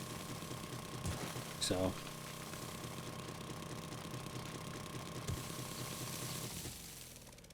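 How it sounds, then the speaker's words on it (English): An auger drilling in 7 Days to Die, a steady mechanical whirring drone held for several seconds with a few sharp knocks and a brief burst early on, fading near the end, under faint speech. "As this auger makes light work of doing this work."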